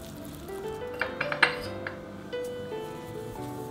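Starch-coated cubes sizzle in hot oil, a steady low frying hiss broken by a few clinks of utensil against the pan, fairly close and with no talking.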